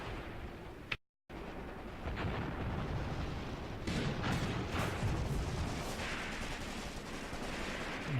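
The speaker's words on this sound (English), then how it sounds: "I will tell my machine guns also to open up." Machine guns fire in the war game Graviteam Tactics, a dense, continuous roar of distant gunfire and rumbling blasts that runs almost unbroken after a brief cut near the start.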